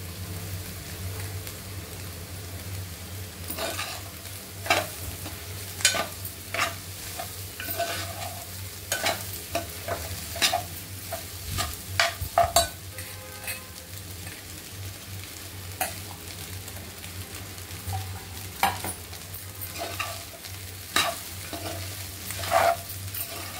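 Leftover overnight rice, salted while cooking, stir-fried in a pan for egg fried rice, with a steady low sizzle under repeated sharp scrapes and clacks of a spatula against the pan, alone without talk.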